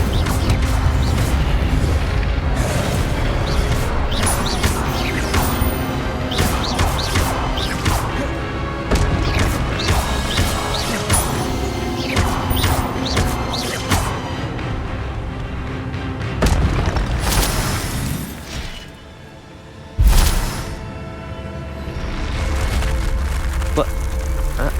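An Incendio fire spell in Hogwarts Legacy blasts out as a loud, roaring surge of flame and crackling impacts, steady and close over many seconds, with a brief drop near the end followed by another burst.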